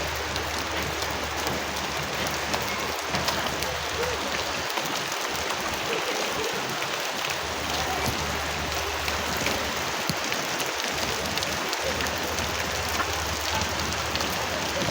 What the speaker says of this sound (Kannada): ಮಳೆ ಬರತ್ತೈತೆ ರೀ